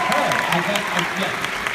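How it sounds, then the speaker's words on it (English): Audience applause at a fan panel with actor Julian Richings, steady dense clapping filling the room for a couple of seconds, with voices faintly audible beneath. "Let's give a round of applause."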